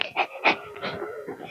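A dog pants close by, quick rhythmic breathy puffs repeating several times over a second and a half, with no talk.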